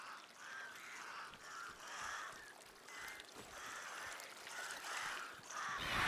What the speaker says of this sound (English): The birds!